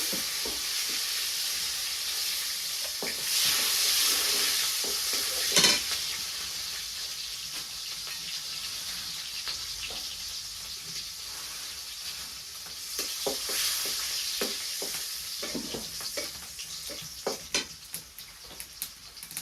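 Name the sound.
chopped onions frying and being stirred in a pan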